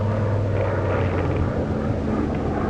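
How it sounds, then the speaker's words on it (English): A small airplane passes over a quiet valley trail, a steady broad engine drone that holds loud and continuous throughout with no voices. "Ain't nothing but a plane."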